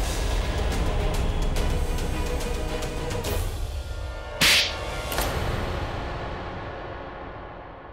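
A resounding slap to the face cracks out once, sharp and loud, over a dense dramatic music bed, followed by a fainter second smack.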